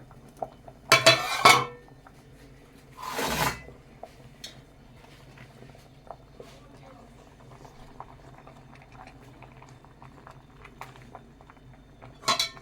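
A fish parcel wrapped in taro leaf goes into a pot of boiling rice. Two sharp clusters of metal pot clinks come early, and a faint bubbling simmer follows. A final clink is heard at the end.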